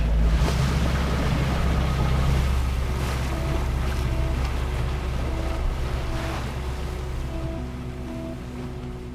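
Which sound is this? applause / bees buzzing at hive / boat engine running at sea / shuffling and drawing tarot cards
boat engine running at sea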